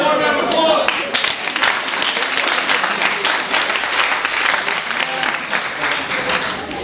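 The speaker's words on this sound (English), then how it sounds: "Everyone round of applause" Crowd at an improv comedy show claps loudly and continuously, a thick wash of applause that swells right after a brief voice at the start and holds steady.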